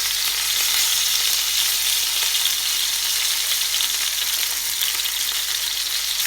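Eggplant stuffed with chicken fries in oil with a loud, constant bubbling sizzle that stays steady for several seconds, with no one talking.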